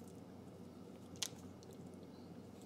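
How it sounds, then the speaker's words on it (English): A dehydrated banana chip snapped by hand at home, one short sharp crunch standing out briefly against faint background hiss, close and quiet. "there was a little crunch when I broke it."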